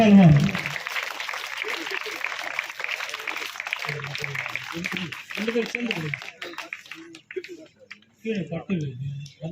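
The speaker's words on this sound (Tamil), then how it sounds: "நல்ல சத்தமாக ஒரு கைத்தட்டு கொடுங்க" A crowd claps steadily in a dense patter of applause at a school cricket academy opening ceremony, with a voice speaking over it partway through.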